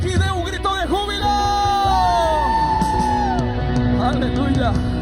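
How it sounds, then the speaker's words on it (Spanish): A church congregation at a Saturday worship meeting erupts in loud joyful shouting, yells and whoops, many voices overlapping continuously with a strong sustained crowd roar throughout. "Todo el mundo aquí dé un grito de júbilo."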